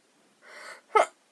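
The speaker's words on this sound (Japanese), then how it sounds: "くしゃみが出ます。" A young woman gives a single close sneeze, preceded by a brief breathy intake and ending in one sharp, forceful burst.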